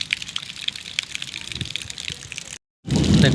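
Rainwater runs along a road during a thunderstorm in Jharsuguda district, a steady close wash of flowing water that breaks off briefly and then comes back louder and rougher.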